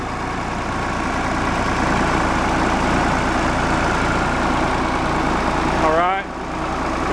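An old 50-horsepower 3910 tractor engine idles with a steady, even, close-up rumble that holds throughout, broken only by a brief rising whistle-like tone near the end.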